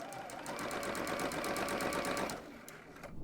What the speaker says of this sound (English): I am going to do a back stitch at the beginning, and I'm going to sew all the way down with a 1/2 inch seam allowance